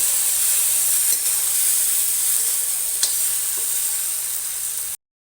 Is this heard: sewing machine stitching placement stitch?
no